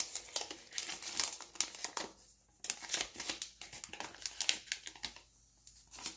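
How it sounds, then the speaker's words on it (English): Stickers peeled off a brand-new Google Pixel 3 smartphone, a close run of crinkling, crackling plastic film with sharp tearing bursts and brief quiet gaps, no talking. "now to the more interesting part, actually taking off these stickers"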